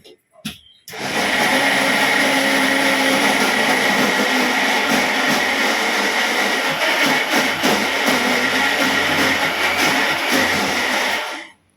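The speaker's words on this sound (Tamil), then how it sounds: "மிக்ஸி இப்பதான் போட்டுட்டு இருக்கேன்" A loud, steady motorized whirring and grinding of a mixer grinder grinding batter with a little water runs almost without pause for about ten seconds, starting abruptly and cutting off at the end.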